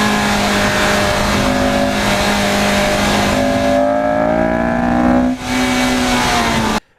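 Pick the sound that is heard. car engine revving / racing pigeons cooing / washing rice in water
car engine revving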